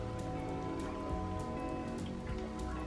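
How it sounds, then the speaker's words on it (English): Rain falling on a rainy day, a dense steady patter of drops on a surface, close and continuous with no talk. "which is, it's rainy today."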